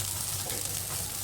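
An egg sizzles and fries as it is added to a pan of browned bananas, a steady, crackling hiss of hot oil that stays even and close throughout.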